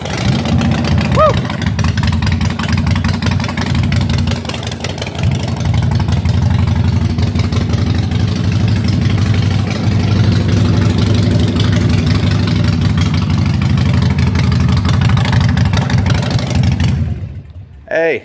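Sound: Harley-Davidson Iron 883 motorcycle engine running inside shop

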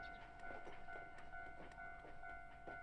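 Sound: train passing in Crayon Shin-chan video game

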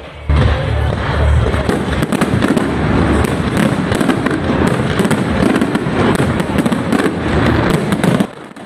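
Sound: fireworks

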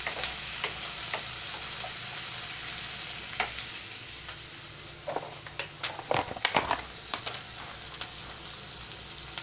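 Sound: onions sautéing with salt in a pan

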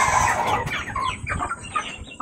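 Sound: rooster clucking

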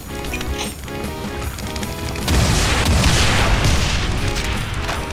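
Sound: rocket launcher explosions in the video game Final Doom

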